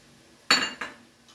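Utensils mixing spaghetti aglio e olio with spring onion and chopped lettuce, heard as two quick, close metallic clinks on a dish, the first louder, over quiet background.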